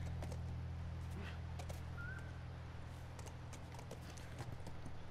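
Horse hooves clip-clop in The Last of Us, a series of light, irregular hoof strikes over a steady low hum and ambient background, with no other prominent sounds.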